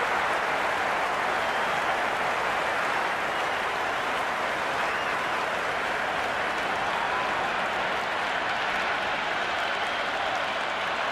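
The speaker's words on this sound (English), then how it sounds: "It's evident and ever so audible that the crowd is at near bursting point at today's play" A large cricket crowd roars and applauds continuously at a steady, loud level, a dense wash of cheering and clapping filling the whole stretch without any clear voices.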